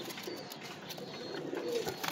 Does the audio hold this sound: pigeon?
yes